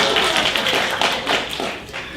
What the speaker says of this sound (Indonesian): Saudara boleh tepuk tangan untuk diri Anda sendiri.